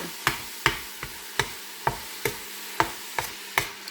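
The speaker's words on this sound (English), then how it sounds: "that was 2 pounds of ground beef, and it's browning up rather nicely" Two pounds of ground beef browning in a pot, with a steady sizzle under evenly spaced sharp taps and scrapes of a utensil stirring against the pot, close and distinct.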